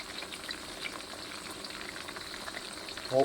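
Steady crackling sizzle of Isan sausages frying in a pan, continuous and close, with a brief louder clatter at the very end.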